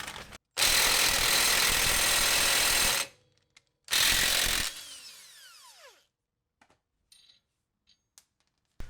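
A power tool drives extended wheel studs into a car wheel hub in two loud bursts, a long one of about two and a half seconds and then a short one, followed by quiet with a few faint clicks and rattles.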